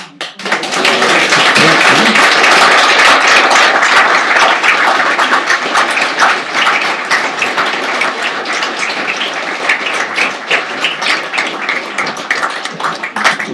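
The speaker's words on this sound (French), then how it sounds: "Merci de vos applaudissements." Sustained applause from a lecture audience at a museum evening talk on scouting history, dense rapid clapping filling the room loudly and evenly, then slowly thinning toward the end.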